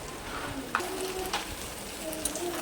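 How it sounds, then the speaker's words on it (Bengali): Carrot and chopped capsicum fry in a pan for chicken fried rice, a steady low sizzle with a few soft clinks of stirring and no talk. "গাজরটাকেও একটু ভেজে নেব এবার এর মধ্যে দিয়ে দেবো ক্যাপসিকাম কুচি"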